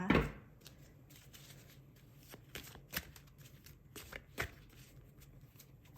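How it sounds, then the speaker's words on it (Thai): A deck of angel oracle cards is shuffled by hand in a quiet room, with soft riffling and several sharp flicks and snaps of the cards, close and moderately loud, and no talking. "เดี๋ยวเราจะมาเปิด ไพ่นางฟ้าเพิ่มอีกสักนิดนึงนะคะ"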